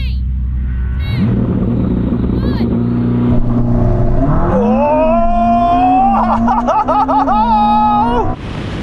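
A Ferrari SF90 and a Porsche 911 Turbo S launch side by side in a drag race. After low idling and a burst of laughter, the engines roar up together in loud, rising revs, then the sound cuts off sharply.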